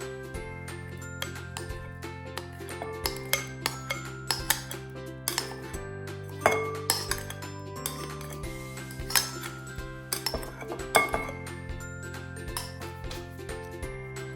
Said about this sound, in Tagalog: i-mix natin yung ating yung tinimpla natin mixture kanina na pang-marinate